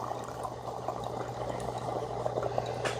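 A Famiworths single serve mini coffee maker near the end of its brew, making a steady quiet bubbling and trickling with a constant low hum beneath it.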